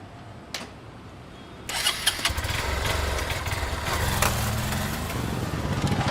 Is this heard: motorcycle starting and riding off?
yes